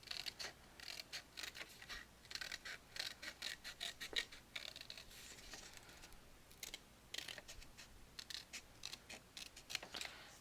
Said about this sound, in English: I'm going to cut down here, and I'm going to cut this whole thing off.